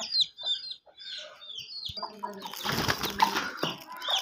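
Chickens and roosters in a home bird enclosure with pigeons cluck and chirp close by, then wings flap in a loud, busy flurry that fills the second half.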